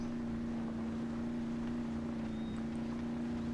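A low, steady engine drone with a constant hum from a Jeep Kaiser M715 truck in low gear climbing a hill in the video game Spintires, running without a break under faint wind-like noise.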